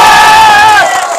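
A large crowd of supporters gathered at a village home roars and cheers loudly in one sustained burst of massed shouting that fades slightly near the end.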